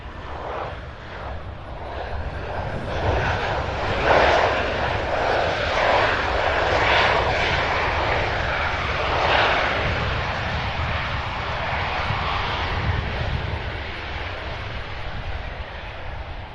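Delta flight 5117, an airliner arriving from Chicago at Cincinnati airport, roars steadily with a broad engine rumble that stays loud and sustained, swelling slightly as it passes close by, with no talking.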